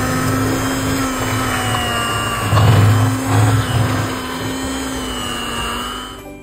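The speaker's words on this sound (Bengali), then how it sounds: "বাটারটা এবারে ফেটিয়ে নেব এর সাথে" Electric beater whipping room-temperature butter for a Christmas cake batter, a steady motor whine with a constant hum and louder bursts of mixing midway, with no talk.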